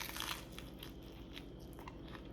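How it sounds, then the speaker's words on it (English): Someone bites into a crunchy pickle sandwich, close crisp crunches followed by quiet chewing, with no talking. "I'm going to take a taste and do the official taste test."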